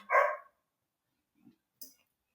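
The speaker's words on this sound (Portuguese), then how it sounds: "vocês escutarem os meus cachorros latindo no fundo" Dogs bark in the background of a Portuguese lesson recording: one clear bark at the start, then a couple of faint, brief yips after a pause.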